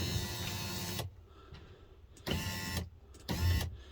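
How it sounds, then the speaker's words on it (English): Rear electric window motor on an Audi S3 8V saloon whirring as the glass rolls up and down after a regulator replacement, three distinct buzzing runs separated by short quiet pauses, close and fairly loud. "give it a check with the ignition on, and then just roll it up and down"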